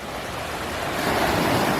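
Waves wash onto a sandy Gulf of Mexico beach at Biloxi, Mississippi, a steady broad surf roar that swells louder toward the end, with some wind noise and no talking.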